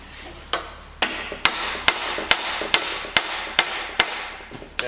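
A hammer taps a greased part into place in a steady series of about nine sharp, evenly spaced metallic strikes, close and clear over a quiet background.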